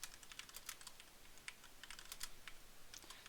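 Quiet, steady typing on a computer keyboard, a continuous patter of soft key clicks, some keystrokes slightly sharper than others, with no voices.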